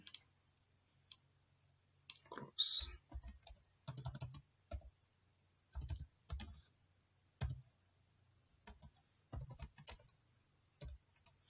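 Computer keyboard being typed on during a Visual Basic 6.0 programming session, with quiet irregular bursts of key clicks separated by short pauses, close and alone without speech.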